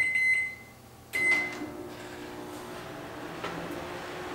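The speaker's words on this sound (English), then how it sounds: "we can also microwave something" A microwave oven powered by an EcoFlow Delta Pro Ultra power station hums steadily after a short beep and a door or button click, a low constant drone with a faint later click.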